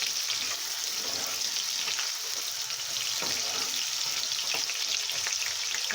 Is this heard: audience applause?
no